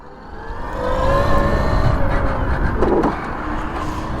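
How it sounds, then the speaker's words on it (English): A NICOT clutched electric bike is ridden, giving a rising whine of motor and drivetrain over steady road and wind rush that swells after the first second and stays loud and close. "we are riding a clutched electric bike"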